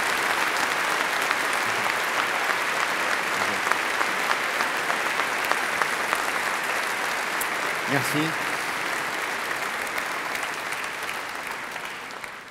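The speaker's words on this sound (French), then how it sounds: "je vous demande de l'accueillir et de l'applaudir." A large convention audience in Lille applauds to welcome Philippe Croizon on stage, a dense, loud, steady clapping that lasts throughout and fades slightly at the end, with a brief spoken word partway through.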